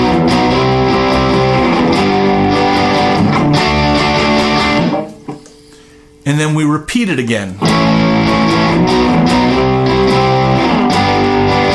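Rock electric guitar playing the chord progression of a song with a distorted tone, loud and continuous, a brief near-silent pause midway, then strummed chords resume; a voice speaks briefly between passages.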